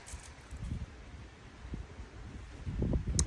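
Wind gusts through garden trees in soft, rustling swells, faint and breathy, with low rumbling wind buffeting the microphone and a stronger gust near the end.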